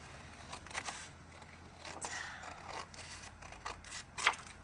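Quiet snips and soft scraping of scissors cutting a paper frog shape for a pop-up book, irregular and close, with a brief sharper squeak near the end.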